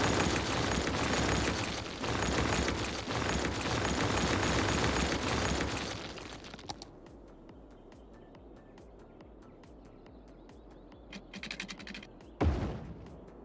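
A building being demolished in the city-building game Cities: Skylines: a long rumbling crash of collapsing debris for about six seconds, then quieter scattered clatter and a final short burst.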